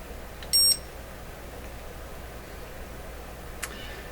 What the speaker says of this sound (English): The moment I squeeze the trigger and the beep comes out